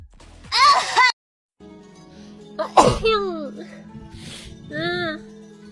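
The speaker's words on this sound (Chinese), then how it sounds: "我打个喷嚏" A young woman gives a wet, allergy-driven sneeze, sharp and close, followed by softer breathy sounds and short vocal noises, with a bit of talk before it.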